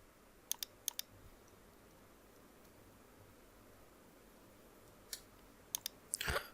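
A few crisp, isolated computer keyboard clicks sound at close range over a steady background hiss, with a short quick flurry of keystrokes at the end.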